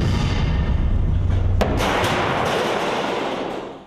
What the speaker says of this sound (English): whenever a movement is detected, the artillery is called in